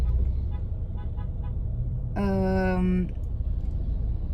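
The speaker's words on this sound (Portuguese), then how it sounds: "Buzinas, porque tá rolando o jogo de um time aqui da minha cidade." A car horn blares for about a second over steady street traffic noise during a local team's match, with a faint horn tooting before it.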